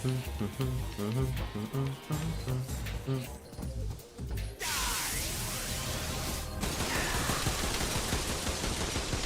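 Gunfire erupts during a boss attack by Volgin in Metal Gear Solid Delta, a dense, loud burst of shots and crashes over game music, sustained for several seconds.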